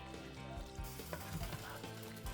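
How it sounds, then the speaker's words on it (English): Cheesy sloppy joe mixture with sharp cheddar melting into it is stirred around a hot pan, giving a steady close sizzle with soft scraping and shuffling of the spoon, and no talking. "I'm going to go ahead and stir this around."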